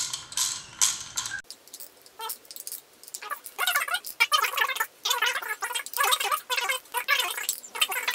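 Bolts on a 2015+ Yamaha R1 stator cover are tightened with a ratchet, giving close, quick clicking runs in irregular bursts with short pauses between them.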